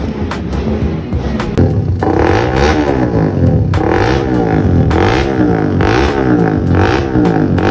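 A Suzuki Raider 150 Fi race motorcycle on a remapped ECU revs hard and loud up close, with repeated sharp throttle blips rising and falling through the engine's range.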